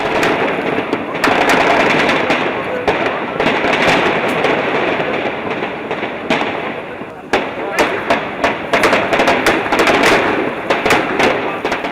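Heavy gunfire rattles in fast volleys, mixed with deeper booming explosions, loud and relentless throughout with a roaring wash of noise beneath, during the Westgate Mall siege in Kenya.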